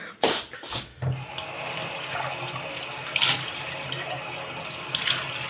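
Tap water runs steadily while a glass that held Coca-Cola is rinsed beneath it, with a few sharp clinks and splashes near the start.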